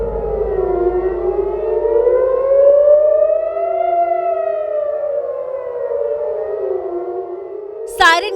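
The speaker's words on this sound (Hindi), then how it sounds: "सायरन की आवाजों को सुनकर" An air raid siren in Israel wails with a slow rising and falling pitch, loud and sustained across the whole stretch, ending with a sharp burst of noise.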